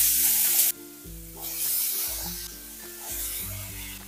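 Cut potatoes tipped into a pan of hot oil with bay leaf, loud sizzling that jumps sharply when they land and then settles into steady frying with stirring and scraping, with no talking.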